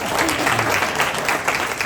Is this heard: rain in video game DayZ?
no